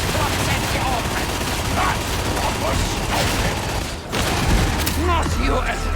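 Gunfire in a video game: bursts of rapid shots and mechanical clatter run throughout, loud and dense, with a brief dip near the end before the firing resumes, while voices talk over it.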